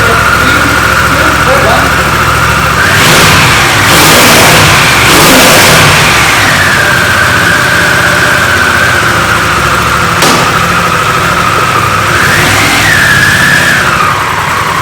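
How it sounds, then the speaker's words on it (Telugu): A Harley-Davidson Pan America motorcycle engine runs loud and close, with several sharp revs early on and a later swell over a steady idle. "బండిని స్టార్ట్ చేసి దీని సౌండ్ వేద్దాం"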